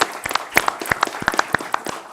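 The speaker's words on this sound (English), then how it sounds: "I think you all deserve a round of applause as well" Scattered clapping from a small group at a township board meeting, a dozen or so distinct close claps spread unevenly over about two seconds rather than a full ovation.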